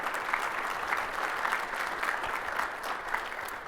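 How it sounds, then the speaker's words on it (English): An audience at a winter governance conference gives a steady round of applause, dense even clapping from many hands heard at a moderate distance, unbroken and without speech. "So let's give them a round of applause."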